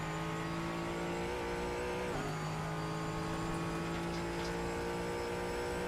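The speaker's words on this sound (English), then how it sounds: "let's listen to that engine" Mustang race car engine in a sim racing game at Sebring, running flat out out of a corner, a steady loud high-pitched roar with sustained harmonic whine and a brief shift dip midway, no talk.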